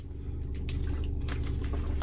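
Water sipped and swished in the mouth by someone wearing Invisalign aligners, soft wet squishing and gulping sounds close to the mic over a steady low hum, with no talking.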